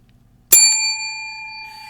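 A single bright bell ding, struck once sharply and left ringing with a long clear decay in otherwise quiet surroundings.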